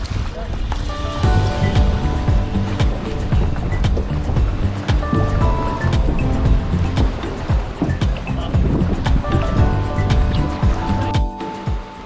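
Waves wash onto a beach at Praia do Camelo in the Algarve, Portugal, a loud, continuous surf roar with steady wash and a few brief tonal sounds mixed in, no clear talking.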